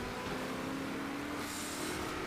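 Muscle car engine in the racing video game Forza Horizon 4, a steady droning growl held at fairly constant revs through the short clip, moderately loud with no talk.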